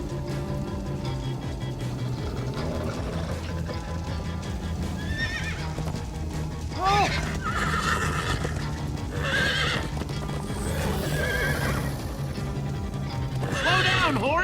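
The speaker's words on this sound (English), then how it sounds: "Slow down, horse!" A horse in the Minecraft: Story Mode video game whinnies repeatedly over steady clip-clopping hooves, loud and continuous, with several rising neighs spread through the stretch and no voices.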